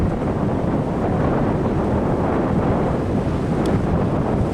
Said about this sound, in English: the wind is blowing pretty good here